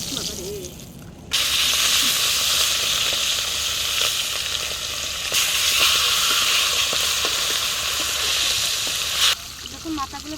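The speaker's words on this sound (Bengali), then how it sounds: "এবার রুই মাছটা ভাজবো। তেল বেশি আছে, মাছটাকে মাথাগুলো আগে ভেজে নেবো" Rohu fish heads dropped into plenty of hot oil, giving a loud, steady, close sizzle that starts abruptly and holds for about eight seconds before cutting off.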